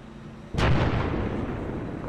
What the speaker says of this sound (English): We're getting hit by the mortars.